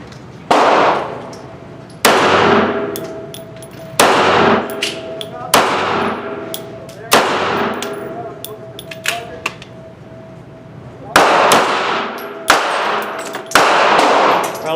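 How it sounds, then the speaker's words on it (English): Kel Tec PMR-30 pistol firing CCI Maxi-Mag 40 grain hollow point rounds: about nine sharp, loud shots at uneven intervals of one to two seconds, each with a ringing decay, outdoors with no talking. "getting ready to shoot the CCI Maxi-Mag hollow point 40 grain"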